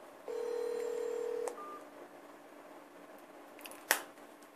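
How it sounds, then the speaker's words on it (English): A Motorola RAZR's outgoing test call on the Verizon network gives a steady ringback tone lasting about a second, followed by a short faint tone and a sharp click, with no talking. "It's ringing my other phone."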